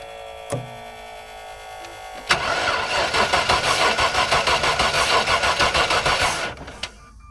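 A Range Rover's starter cranks the engine in a steady, rapid chugging rhythm for about four seconds, loud and close, then cuts off without the engine catching, followed by a lone click.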